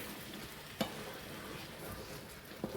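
Potato and egg curry bubbling in a pot, a steady close simmering hiss throughout with a couple of brief clicks from the pan, no voices.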